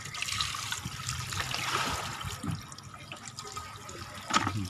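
Water running out after being opened, pouring in a steady, moderately loud splashing stream with gurgling variations, close by and with no talk over it.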